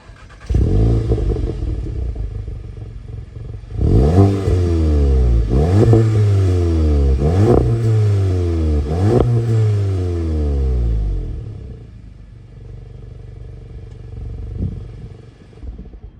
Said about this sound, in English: we do find here the beautiful exhaust pipes that sounds like this